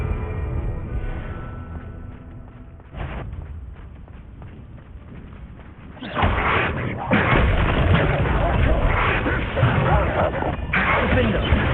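A Bombarda spell explodes in Hogwarts Legacy combat, a sudden loud blast that jumps the din into a sustained roaring rumble after quieter crackling action. Speech is mixed in with the fight noise.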